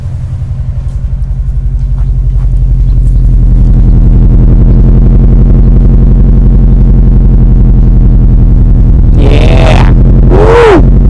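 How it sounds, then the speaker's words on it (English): A 1998 Subaru Impreza RS coupe with an EJ205 engine idles at the exhaust with a steady, deep, loud rumble that swells over the first few seconds, close up, with brief voices near the end. "Let me go ahead and get some shot of the exhaust so you guys can hear that."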